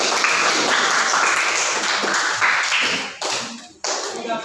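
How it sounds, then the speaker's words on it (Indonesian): A class of students applauds together, a dense steady wash of clapping that carries on for several seconds before thinning and tailing off near the end. "Ya, aplaus."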